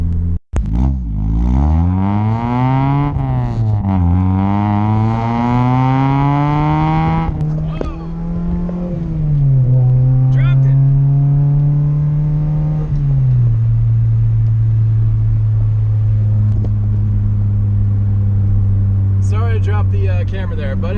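A third-generation Honda Prelude with a new TruBendz exhaust revs hard and close, the engine note climbing and falling through several long pulls before settling into a steady raspy idle, with a brief burst of higher engine noise at the end.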